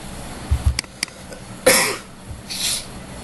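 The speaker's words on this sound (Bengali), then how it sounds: "আমার আসলে অনেক কাশি হচ্ছে" A person coughs in a few short, close bursts, first some quick hacking coughs, then a stronger harsh cough and a softer one after, with quiet room sound between.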